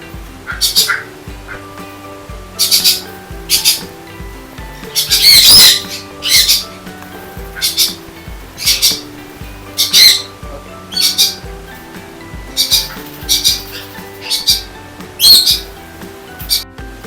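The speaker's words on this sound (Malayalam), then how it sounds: "ഇത് നമ്മുടെ ക്രിംസൺ ബെല്ലേഡിന്റെ തത്തയാണ്" Parrots squawk in harsh, repeated bursts close by, some calls louder than others, with a person's voice murmuring underneath.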